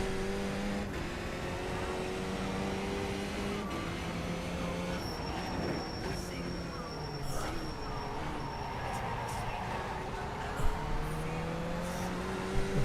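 A race car engine in the iRacing simulator drones and shifts pitch through acceleration and gear changes, steady and moderately loud over nearly thirteen seconds, with faint talk underneath.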